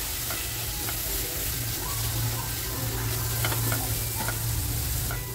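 A coriander, chili and mint paste fries on a low flame for fish biryani, producing a steady, close, even sizzle with faint crackles and no pauses.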